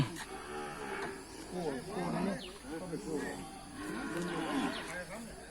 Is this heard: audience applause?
no